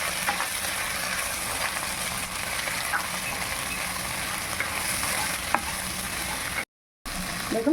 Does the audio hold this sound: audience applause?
no